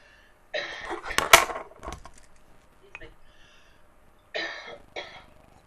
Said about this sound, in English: Coughing is good, it cleans the lungs.